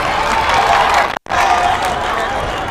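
Stadium crowd of Nyambai supporters at a football final against Gidda, loud sustained clapping and cheering with a momentary dropout midway before the roar resumes.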